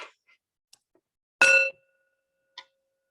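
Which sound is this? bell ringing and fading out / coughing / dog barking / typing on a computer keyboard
bell ringing and fading out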